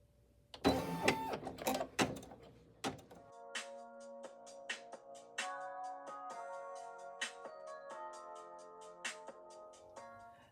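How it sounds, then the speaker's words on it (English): An embroidery machine stitches out the placement outline for a bag tag: a few heavy clunks at start-up, then a steady rapid mechanical ticking and whirring with regular sharp clicks, close and fairly quiet, no talking. "I'm going to press the green button to start the embroidery"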